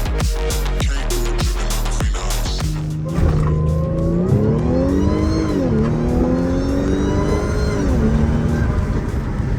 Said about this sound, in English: It feels really good launching it.